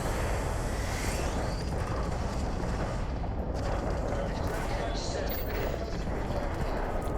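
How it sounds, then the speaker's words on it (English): An explosion rings out during space combat in Starfield, a deep boom rising from rumbling battle noise. A sharp burst lands about halfway through, with dense low rumble continuing around it. "Ooh, that's a nice explosion."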